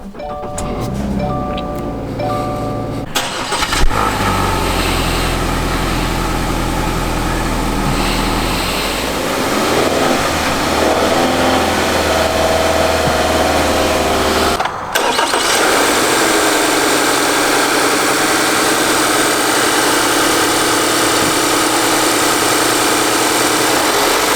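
A 2024 Subaru Forester Limited engine cranks and catches with a loud start, then settles into a steady, close idle hum that runs on alone for the rest of the stretch.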